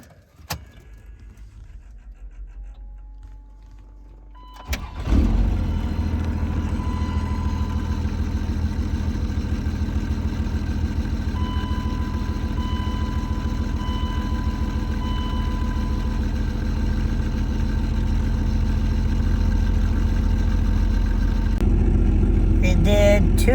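A car engine cranks and fires up after about five seconds of near quiet, then settles into a loud, steady idle close by that runs to the end.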